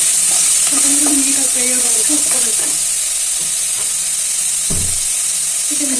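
Onions dropped into hot oil in a pan for a chicken fry, hissing and sizzling up close while a utensil stirs and scrapes, with one sharp clunk partway through.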